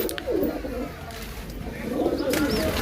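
A fancy pigeon coos in soft, low repeated phrases close by, with faint chirps and light background noise.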